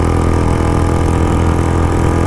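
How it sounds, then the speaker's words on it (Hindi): A Royal Enfield Bullet motorcycle runs at a steady high cruising speed of about 110–120, its engine droning loud and constant close up, mixed with road and wind rush and no talk. "देख लो यार अपनी बाइक कांस्टेंट 110 120 चल रही है"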